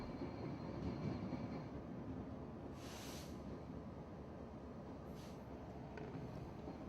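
A train rolls over the down Lincoln flyover, crossing the East Coast Main Line, giving a steady, low rumble with brief high hissing bursts from the track; no one speaks.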